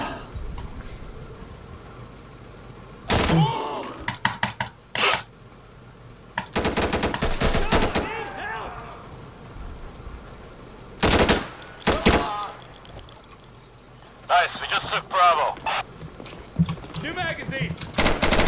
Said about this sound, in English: He's got the large machine gun on the ground.